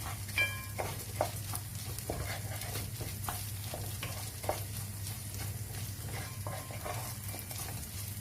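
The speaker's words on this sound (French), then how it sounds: "on va laisser cuire le riz avec l'ail tranquillement" Rice and garlic frying in a pan while being stirred, a steady close sizzle with occasional scrapes and light clinks of a utensil against the pan throughout, no talking.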